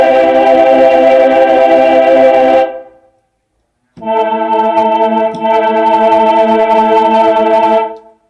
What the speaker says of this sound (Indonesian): ini suara chord ya, tombolnya saja